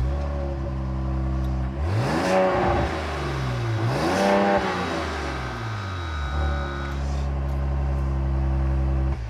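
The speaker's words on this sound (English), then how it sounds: "So obviously it has that really nice straight six snarl." A 2025 Ram 1500 Tungsten twin-turbo straight-six firing up and idling, heard close with a deep steady drone, two rising-and-falling revs in the middle, then settling back to an even idle.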